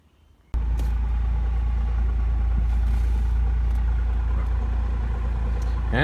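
A Ford Escort Cabriolet MK5 EFI classic car starts up and idles to be driven out, a sudden onset followed by a steady, close, low engine rumble that holds evenly throughout.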